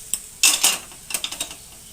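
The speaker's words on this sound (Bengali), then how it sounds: "এখানে আমি কড়াই বসালাম" A metal kadai is set down on the stove, a few sharp clanks and rattles close by, then lighter ticking knocks as it settles.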